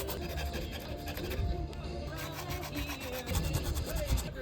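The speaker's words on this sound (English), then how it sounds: "Sanding down the stockers." Stock battery cables of an EG Honda Civic being sanded down, a continuous close rubbing and rasping with repeated strokes at a moderate level.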